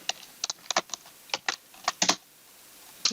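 Fingers tapping on a computer keyboard: about a dozen quick, light clicks in an uneven rhythm, close and fairly quiet, with no voices.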